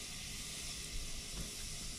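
Fresh cilantro sizzling in hot oil in a frying pan for nopales rancheros, a steady close, bright hiss that stays even and unbroken, with no voices.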